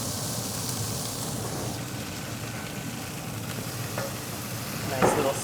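Smash burger patties seared on a grill after a savory seasoning rub, giving a steady close sizzle and crackle that swells briefly with a burst of spattering near the end.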